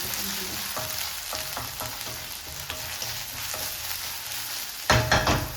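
Ginger garlic paste fries in a pan for mutton biryani, a continuous close sizzle broken by sharp spoon clinks against the pan, ending with a louder burst of stirring.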